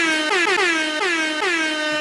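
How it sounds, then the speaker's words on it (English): Several loud blasts of an air horn in quick succession, each a brassy tone sliding slightly downward, sounding close and alone. "Ooh, man, you get some air horns for that one."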